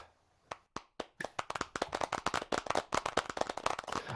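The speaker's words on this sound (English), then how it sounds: "give yourselves a massive round of applause" Applause at an awards ceremony begins with a few scattered claps, then swells into dense, lively clapping from many hands that keeps going to the end.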